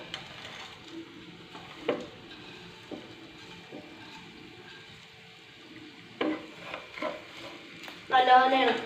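Clams for a pickle being fried and stirred in a pan, with a soft steady sizzle under a few spoon scrapes and knocks, then louder stirring and a hiss near the end.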